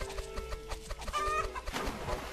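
A video game chicken in a Roblox egg farming simulator clucks repeatedly in short rhythmic bursts, moderately loud and close, with no talking.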